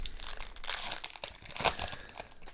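Foil wrapper of a trading card promo pack crinkling and tearing open at a store championship, close crackly rustling bursts that swell and fade over a couple of seconds, no speech.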